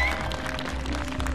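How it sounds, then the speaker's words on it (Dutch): An audience at a live television stunt show claps for a performer, a brief burst of dense, continuous applause that stays loud and steady throughout. "En applaus voor Nicola"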